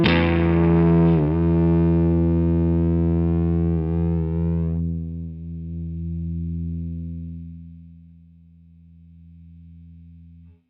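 A sustained distorted guitar chord through a TC Electronic Booster+ pedal rings out, then cuts off abruptly as a noise gate clamps down, leaving a low hum that fades.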